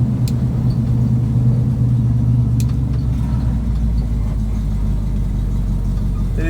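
A 1966 Ford Mustang with manual brakes and manual steering cruises along, its engine a steady, loud low rumble with constant road noise throughout and no voices.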